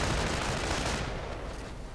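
Gunfire in a war video game, where a rifleman is being shot up during a sniper hunt, forms a dense, continuous roar of overlapping shots that stays loud throughout.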